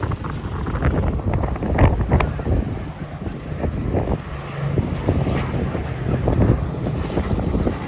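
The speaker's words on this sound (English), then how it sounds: "Three Hurricanes together, you don't see this very often, especially Hurricane Mark 1s." Three Hawker Hurricane Mark 1 fighters flying past at an airshow, their propeller engines producing a steady, loud, rumbling drone with gusty wind noise and no talk.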